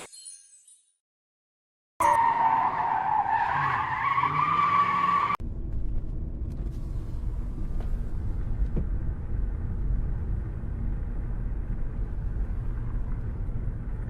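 A cartoon car skids with a loud, sustained tire screech, then settles into a steady low engine rumble that runs on for several seconds with no voices.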